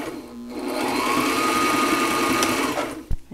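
Sailrite LS-1 walking foot sewing machine running in reverse, a steady close whirring stitch sound lasting about two and a half seconds before stopping with a brief clunk.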